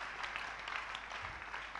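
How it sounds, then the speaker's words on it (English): A church congregation claps hands together during a worship service, a steady, fairly quiet wash of applause lasting a couple of seconds with no distinct individual claps standing out. "Clap your hands for Jesus."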